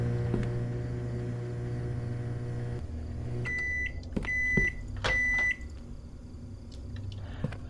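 Microwave oven in a Fears to Fathom: Ironbark Lookout game hums steadily, then stops with a series of sharp high beeps, fairly quiet and alone.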